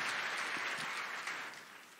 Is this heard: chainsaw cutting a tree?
no